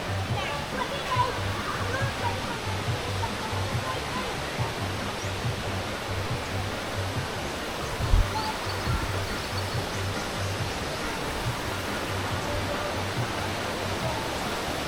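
Waterfall at a farm in San Jorge, Samar, Philippines: a steady, dense broadband rush of falling water fills the whole stretch at even loudness, with one brief thump partway through.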